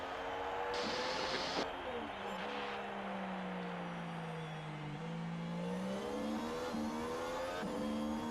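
Race start in the F1 Manager 23 video game: a pack of simulated Formula 1 engines revving and rising in pitch together, continuous and loud, with a voice talking over them.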